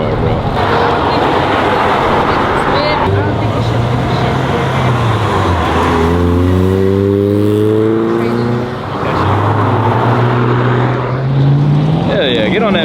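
At a car meet, a supercharged car engine revs loudly and close, its pitch climbing and falling through repeated sweeps amid crowd noise and voices.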